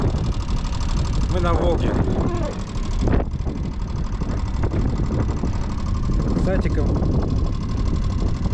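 A boat outboard motor idles on the Volga with a steady mid-pitched rumble while someone talks over it close by.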